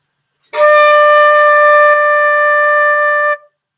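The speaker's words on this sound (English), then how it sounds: "D sounds like this." One steady flute note, a D, sounds clearly for about three seconds, breathy at the start, then stops cleanly.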